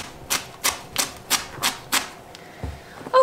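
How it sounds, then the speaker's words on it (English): Knife chopping fresh cilantro on a cutting board, about seven evenly spaced, crisp cuts in a steady rhythm, close and clear with no talk. "I'm gonna crumple it up and I'm just going to finely chop it."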